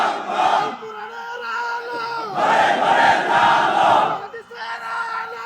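A crowd at a religious sermon gathering shouts the takbir in unison, loud massed voices in two or three rising bursts with brief pauses between, close and reverberant.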